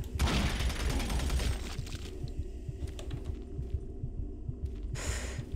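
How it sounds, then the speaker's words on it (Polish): Rapid, steady heartbeat of the hero in Doom 3 BFG Edition thumps low and continuous beneath game ambience, with a gunshot-like burst at the start and another sharp sound near the end. "Czemu bohaterowi tak szybko bije serce?"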